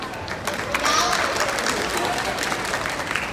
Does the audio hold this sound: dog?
no